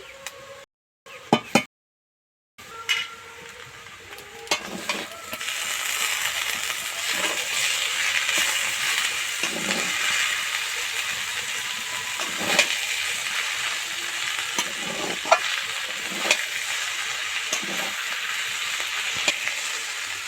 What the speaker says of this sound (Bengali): দেখুন আমি দুটো খুন্তি দিয়ে বেশ কিছুক্ষণ নেড়ে নিয়েছি চাউমিনটা